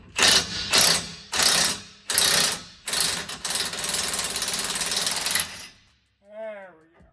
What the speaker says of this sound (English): All right, very slowly back this bolt out